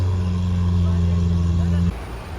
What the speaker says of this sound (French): regardez cette Aventador SV Roadster, le bruit qu'elle fait les gars, c'est énorme